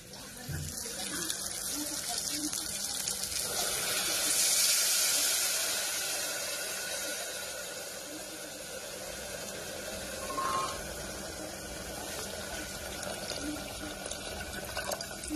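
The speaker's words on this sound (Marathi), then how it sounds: "तर ह्या बादलीमध्ये आपण पाणी घेतोय." Tap water runs steadily into a bucket in a kitchen, a continuous close hiss and splash with a slight swell midway and faint background noise.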